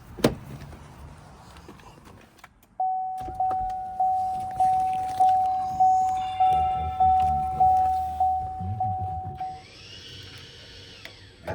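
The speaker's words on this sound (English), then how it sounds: "I'll just go to the front right now and deactivate the parking brake." Automatic electric parking brake on a Cadillac XTS releasing: a steady motor whine with a rhythmic series of about a dozen pulsing surges over several seconds, fairly close and clear, ending with a brief higher hum.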